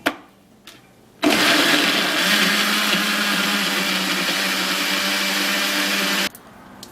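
A kitchen blender whirs steadily for about five seconds, blending sweet potato with onion juice, a loud continuous motor drone with abrupt start and stop and short clicks around it.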